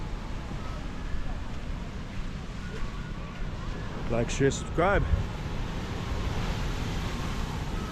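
Huge ocean waves wash onto a beach in Arecibo, Puerto Rico, a constant broadband roar mixed with wind buffeting the microphone, while someone speaks briefly near the middle.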